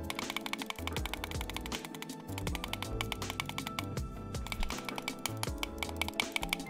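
Rapid butterfly clicking on a Logitech mouse, a fast, dense stream of sharp clicks at close range running steadily throughout over faint background music.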